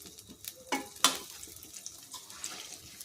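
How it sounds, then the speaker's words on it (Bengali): Gentle, low sizzling of mango fritters (aam er pua) frying over low heat, a quiet crackle with a couple of sharper pops and clinks. "আমি লো আঁচেই ভাজছি"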